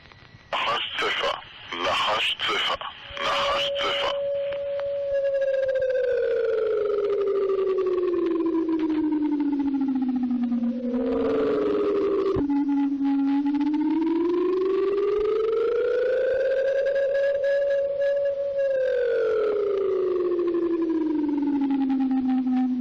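A few quick electronic bursts, then a loud wailing missile attack alert siren that slowly sweeps down and back up in long, steady arcs.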